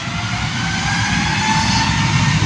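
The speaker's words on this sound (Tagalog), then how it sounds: "Isang magandang tanawin sa isang maganda paglipad ng eroplano" An airplane taking off at an airport, a loud, steady engine roar close by with a thin rising whine on top, continuous with no talk.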